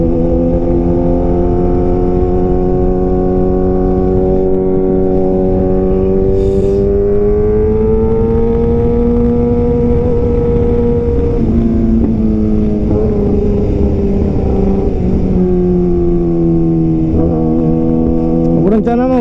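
A Kawasaki ZX6R fitted with a Master Racing exhaust drones loudly and continuously up close, its engine note rising and dipping gently as the throttle shifts through the whole stretch.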